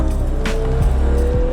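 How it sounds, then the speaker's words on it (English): A Ferrari 12 Cilindri Spider's naturally aspirated twelve-cylinder engine revs hard, its exhaust note climbing in pitch and then dropping sharply at each quick gear change, loud and close. "You've got the low baritone from the exhaust, and as you rise through the revs, some soprano"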